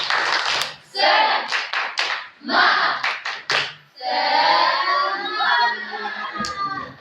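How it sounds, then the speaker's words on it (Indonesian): A classroom of students performs a rhythmic spirit clap, sharp bursts of clapping in a patterned beat mixed with loud group voices chanting along, close and energetic. "Tepuk semangat."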